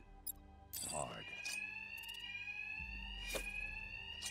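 An alarm rings continuously in the video game Batman Arkham Knight, a steady electronic tone holding throughout, with louder bursts of combat impacts and low thuds mixed in.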